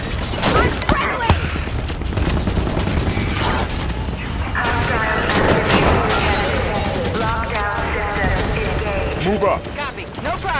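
Mortar rounds and gunfire in the Halo 5: Guardians video game, a dense, continuous battle din of booms, rattling shots and crashes, with game characters shouting throughout.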